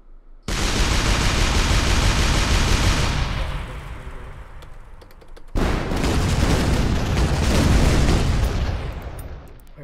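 Loud, continuous booming blasts and rumbling explosions from tank shots in the video game Shell Shock Live, with a dense roar that cuts off briefly midway and then resumes just as loud.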